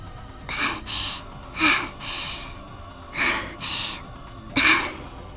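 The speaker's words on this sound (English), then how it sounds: "The sound of her breathing, she must be at her limit." Heavy panting from a girl character in the video game Steins Gate Elite, four distinct breath bursts of gasping inhales and exhales, close and fairly loud with pauses between.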